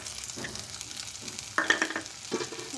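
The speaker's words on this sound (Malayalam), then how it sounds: "ഇപ്പോൾ എണ്ണ ചൂടായിട്ടുണ്ട്. നമുക്ക് ഇനി അതിലേക്ക് ചതച്ച ഇഞ്ചി വെളുത്തുള്ളി ഇട്ട് കൊടുക്കാം." Crushed ginger and garlic sizzling in hot oil in a pan for palak dal, a soft crackling hiss with a few brief louder stirring bursts, close up.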